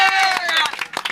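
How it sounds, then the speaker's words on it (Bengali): Scattered hand claps break out among a crowd at a Dhaka cattle market during Eid-ul-Adha, with voices calling out over the first part and then a quick burst of uneven clapping. "হাততালি হবে।"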